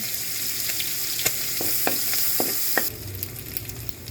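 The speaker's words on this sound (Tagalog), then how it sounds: "Sa side niya, lalagay na tayo magigisa na tayo ng bawang" Garlic sizzles steadily in a hot pan for adobong karne, with a few sharp clicks and scrapes of a utensil stirring, and the frying grows brighter near the end.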